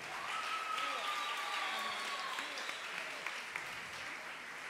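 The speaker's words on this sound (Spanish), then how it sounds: "Aplauda al Señor" A congregation applauds at an evangelical gathering in Magangué, Bolívar, a steady wash of clapping that runs throughout, with a voice and faint tones carrying over it.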